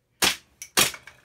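Two sharp airsoft gun shots a little over half a second apart, each followed by a quick fading tail as the pellet strikes a target, loud and close with no talking.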